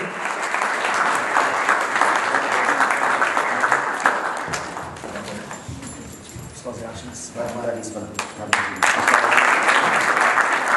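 Applause breaks out at an award ceremony for Defenders of the Homeland Day, as an audience claps in a dense, sustained patter that dips briefly midway and swells again, with a voice talking over part of it.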